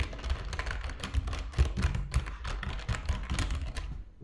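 Fingers type on a Logitech G915 low-profile tactile keyboard, close and fairly quiet, producing a quick irregular run of soft clacks and thuddy key bottoming with no voices.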